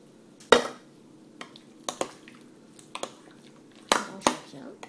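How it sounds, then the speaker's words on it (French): A spoon scrapes and clinks against a pot while mashed potatoes are mixed with cream and milk, in sparse irregular knocks over a quiet background. "Je mélange bien."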